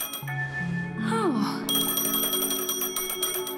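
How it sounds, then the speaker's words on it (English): A phone rings in the Honkai: Star Rail video game: a steady electronic ringing tone with bright, repeating bell-like harmonics over a soft game soundtrack, moderately loud and close. "A phone."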